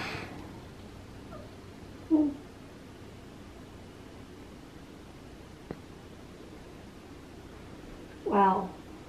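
A house cat lounging in the sun gives two soft, short meows several seconds apart over a quiet, hissy indoor background.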